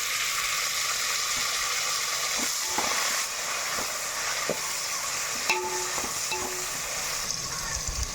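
Onions and tomatoes sautéing in a pan for prawn biryani, a continuous close hiss of frying with intermittent stirring scrapes and clinks of a spoon against the pan.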